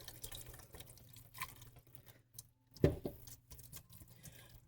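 Liquid is poured slowly into Alfredo sauce in a pan, a faint, quiet trickle and patter with one sharper splash or clink midway.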